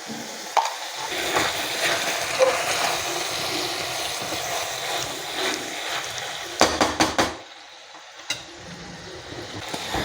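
Onion with ginger-garlic paste, turmeric and salt frying in oil in a pan, a steady close sizzle with stirring scrapes, then a few sharp knocks of a spoon against the pan.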